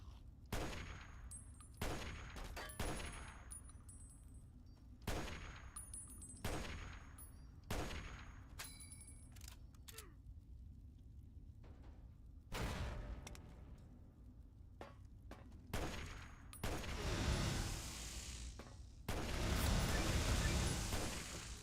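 A weapon firing in the video game Fallout: Tale of Two Wastelands, with sharp, loud shots spaced irregularly and then dense bursts of rapid gunfire, heard with no talking.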